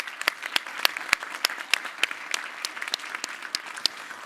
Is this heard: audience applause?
yes